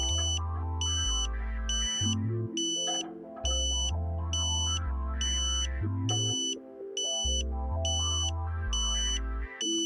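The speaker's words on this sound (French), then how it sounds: "Vous entendez ensuite la tonalité de verrouillage." A satellite dish's lock tone sounds during Ka-Sat dish alignment: a bright electronic beep repeating at an even pace, roughly once a second, over a pulsing low hum.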